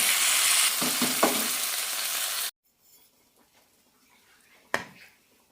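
Shallots and fenugreek frying in hot oil in a pan, a loud close sizzle with a few stirring knocks that cuts off suddenly, followed by near quiet and one sharp clatter.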